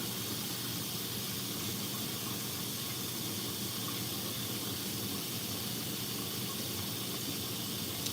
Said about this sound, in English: Now I'm gonna let that cabbage soak in some hot water. I'm gonna add hot water to this.